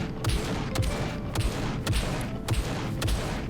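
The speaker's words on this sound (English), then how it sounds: "It's very easy to avoid its gunfire" Gunfire from a dropship in the SCUM video game comes in a steady rhythm of sharp booming shots, about one every half second, over a constant hum of game ambience.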